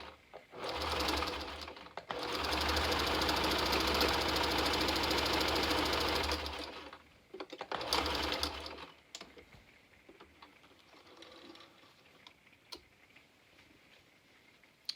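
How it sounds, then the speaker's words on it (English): A sewing machine runs in two bursts while stitching fabric around a heart shape for a unicorn dress, a long steady whir followed by a shorter run, then quiet handling noises. "I pick it up, twist the fabric around, and start sewing again"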